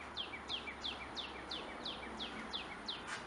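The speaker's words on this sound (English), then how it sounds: "Nice birds. Just goes to show you birds will live anywhere." Birds chirping outdoors around a house yard, a regular series of short high sweeping calls repeating about every third of a second over faint background hiss, moderately distant.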